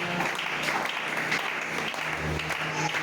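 A church congregation claps and cheers together to acclaim the Lord during a Friday evening teaching service, a dense, continuous roomful of applause at moderate distance.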